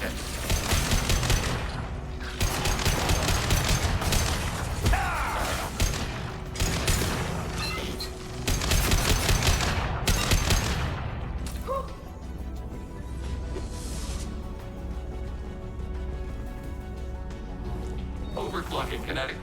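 A Mass Effect 2 firefight sends out dense, rapid gunfire in long loud volleys with crashing impacts. Speech is heard over it, and the shooting thins out into lower, scattered sounds and a droning hum near the end.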